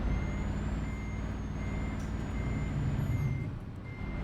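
Repeated reversing beeps from a truck backing up in the Euro Truck Simulator video game, a steady high pulsing tone over a continuous low engine rumble, with no talking.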